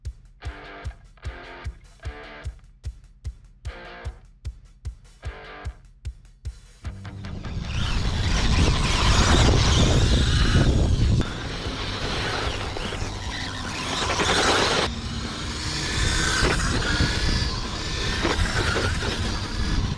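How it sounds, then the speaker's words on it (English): Team Associated Monster Van RC car outdoors on frozen dirt: a run of evenly spaced rhythmic clicks gives way to a loud, rough, continuous motor and tire roar that surges and eases. "I'm gonna get some runs in on the monster van"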